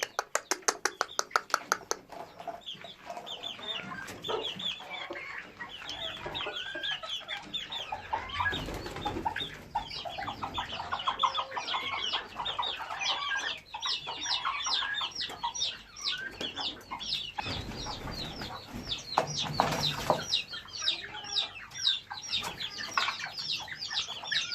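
Chickens, including Swedish flower hens, cluck and squawk busily while being fed scraps of spicy lahmacun, with a dense layered flock chorus, some wing flapping and a few louder outbursts close by.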